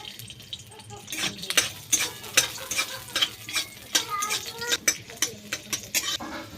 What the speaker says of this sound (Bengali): কড়াইতে অল্প তেল দিয়ে সস বানানোর জন্য রসুনটা একটু ভেজে নেব